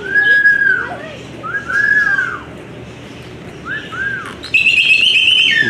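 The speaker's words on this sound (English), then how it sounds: "We got a cockatoo in the back, making lots of noise." Cockatoo and budgie parakeets calling in an aviary at Washington Park Zoo, Michigan City, Indiana: a series of loud, sliding whistled calls and chirps over a noisy background, with a shrill burst near the end.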